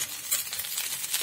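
Hot rice and night jasmine flowers fry in fish oil, a short bright sizzle with light stirring scrapes up close.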